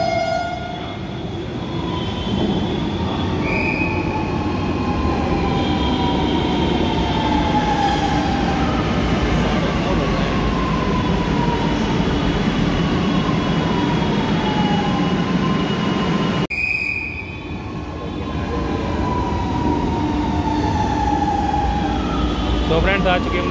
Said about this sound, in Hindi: ये आ रही सुंदर सी मेट्रो।